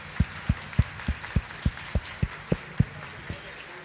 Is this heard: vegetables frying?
no